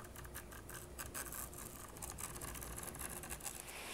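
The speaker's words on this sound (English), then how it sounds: "Hold the knife right outside of the channel and then gently pull on the screen and cut" A utility knife slices through excess porch screen mesh along a frame channel, giving a steady close scratchy rasping cut for several seconds.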